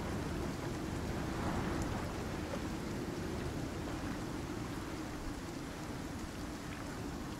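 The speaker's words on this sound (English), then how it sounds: "Storm should be subsiding pretty soon." A thunderstorm in the Icarus video game pours steady, dense rain over a low rumbling thunder bed, a continuous, enveloping wash of sound with no voices.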